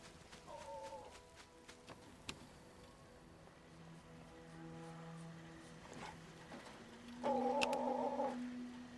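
A cat meows in the video game Fallout 76, probably from a rooftop down through a bathroom vent. A short meow comes early, then a longer, louder drawn-out meow near the end, over a quiet hum.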